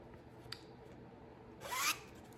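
A zipper runs along the top of a handmade fabric bag in one quick, close pull after a faint click, with no talk.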